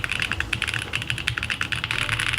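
Rapid, light, clacky keystrokes on a very expensive computer keyboard, a dense close-up patter of crisp clicks continuing steadily without any voices.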